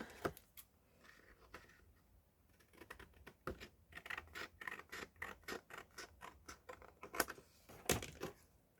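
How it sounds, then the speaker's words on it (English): Scissors snipping and trimming paper during altered book crafting, a run of short crisp cuts in quick irregular bursts, close and fairly quiet, with no talking. "I think we're just going to trim this a little bit. I'll do that with the scissors."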